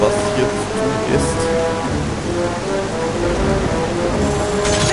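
Steady rain pours throughout in The Legend of Zelda: Twilight Princess, a dense even hiss with faint rumbling beneath, while someone speaks German briefly over it.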